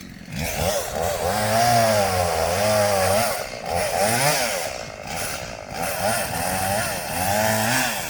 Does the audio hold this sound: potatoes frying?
no